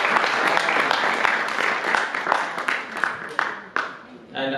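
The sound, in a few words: devotees applauding the kirtan singer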